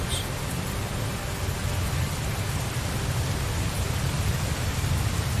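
Steady rain falls in Tales of Zestiria, a continuous loud hiss of downpour with a low rumbling undertone, unbroken across the whole stretch.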